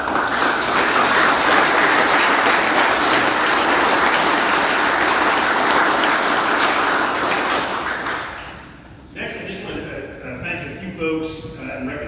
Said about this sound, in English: If we could just give them another round of applause.